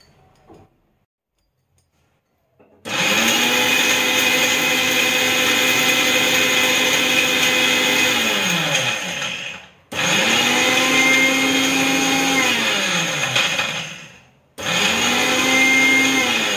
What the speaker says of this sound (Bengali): এবার আমি এটা মিক্সিতে পিষে নেব।